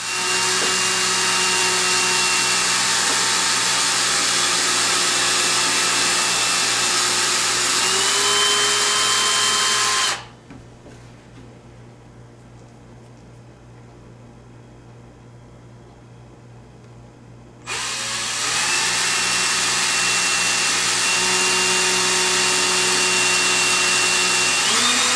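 A loud, continuous whine of a power drill boring into guitar wood for a Bigsby B16 installation, cutting out for several seconds of near quiet before running again steadily.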